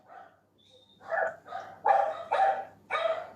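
A small dog barks nearby, four or five sharp yappy barks in quick succession, clear and fairly loud in an otherwise quiet indoor setting during a talk session.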